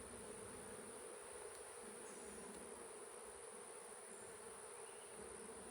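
Honeybees hum in a dense, steady drone at an open hive in a southeastern Alabama beeyard, a constant close buzz with a high whine above it and no voices.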